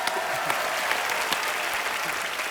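A studio audience on a comedy show claps loudly and continuously, a dense wall of applause with no pauses.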